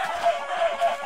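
Chickens clucking in a video game, a short run of close, nasal clucks in an uneven rhythm, with no talking.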